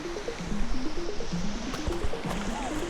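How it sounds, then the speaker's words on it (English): Feet wading through Little Wilson Stream in Maine's 100 Mile Wilderness on the Appalachian Trail, with steady close splashing and rushing water over a flowing current throughout. "First big water crossing. Getting the feet wet. Little Wilson Stream."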